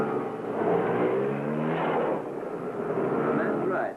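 Test mechanics ride Lambretta scooters and three-wheeler trucks around factory grounds in Italy. Their small engines drone and rise in pitch together, a continuous moderately loud motor hum.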